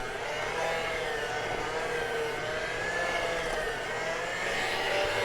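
An electric hand mixer whirs steadily on low speed through eggnog cheesecake batter, giving a continuous, even motor whine at moderate loudness with no talk.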